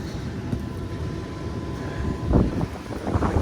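A Lennox rooftop heating unit's furnace inducer motor runs outdoors as a steady low mechanical drone and rumble, with a brief louder gust of noise near the end.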